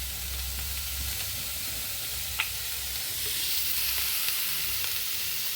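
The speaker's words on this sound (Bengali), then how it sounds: "এটা এখন একটু ভেজে নিই। এখানে আমি একটু সরিষার তেল দিব।" Cauliflower frying in mustard oil gives a steady, close sizzle with a faint hiss, broken by a couple of soft stirring clicks and no talk.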